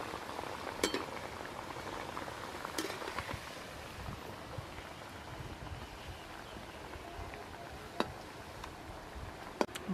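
Wheat flour (atta) biscuits fry in a pan of oil over a lowered flame, giving a steady, dense sizzle and bubbling with occasional sharp crackles and pops throughout.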